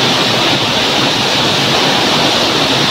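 Rizal Falls pours in a steady, loud, dense roar of rushing water, unbroken and close, with no voices over it.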